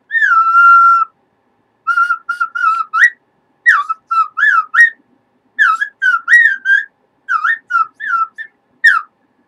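A slight whistle sounds close into a talk-radio microphone: a long steady tone, then a series of short, bright whistled phrases with rising and falling glides, loud and clear, with no talking.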